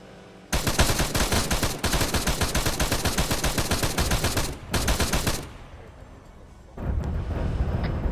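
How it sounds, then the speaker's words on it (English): Dense, sustained automatic gunfire from an Arma 3 battle at a cleared airbase, long rapid bursts with brief pauses and a loud crack of fire, with distant shots continuing near the end. "They're now firing"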